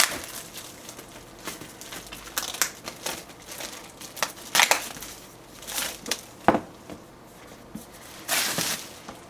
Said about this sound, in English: So I will just unwrap this very quickly.